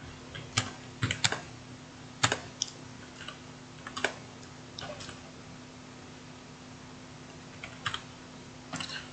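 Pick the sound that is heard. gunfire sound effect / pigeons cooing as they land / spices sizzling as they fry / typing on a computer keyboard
typing on a computer keyboard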